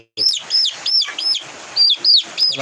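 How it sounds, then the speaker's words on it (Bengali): Young native chicken chicks chirp close by in a quick series of high, thin peeps, repeated in short bursts with brief pauses between. "এগুলো হচ্ছে দেশি মুরগির বাচ্চা"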